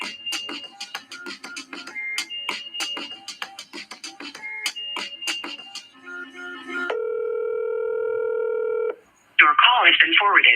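A telephone being dialed: a rapid series of touch-tone keypad beeps, then a steady tone and a long ringing or dial tone, ending in a short electronic burst, heard clearly with no talk.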